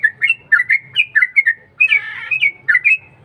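Yellow-vented bulbul, a trucuk bird, singing at dawn: quick bursts of bright chirping whistles repeated in a lively rhythm, close and clear, with a faint low hum underneath and no voices.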